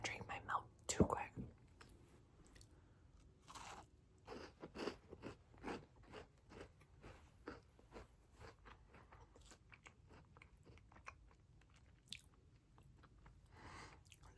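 Close-up bites and crunching on a crunchy-edged Crumbl cookie, sparse crisp crackles over near-silence, with soft whispering between bites.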